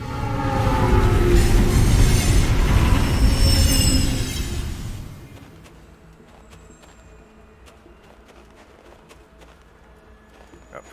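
A train passing by in the video game Alpha Protocol: a loud, close rumbling roar with rattling wheels that fades after about five seconds, leaving quieter scattered clicks and ambient sounds.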